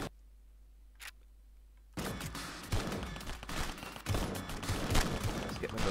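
Rapid bursts of gunfire from the video game RedEX crack in uneven clusters after a quiet opening, loud and busy with repeated sharp reports and some talk mixed in.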